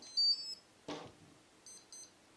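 RC electronic speed controller on a park jet model arming, giving faint, short high-pitched electronic beeps: one pair near the start, then two more spaced beeps after a brief clunk, in a quiet room.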